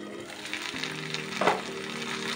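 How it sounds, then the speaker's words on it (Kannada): Pomfret masala frying in a hot pan gives a steady, close sizzle and crackle with a brief louder spatter midway. No voices are heard. "ಬಿಸಿ ಹಾಕಿ ಚೆನ್ನಾಗಿ ಮಸಾಲೆ ಬೆರೆಯುವಂತೆ ಫ್ರೈ ಮಾಡಿಕೊಳ್ಬೇಕು."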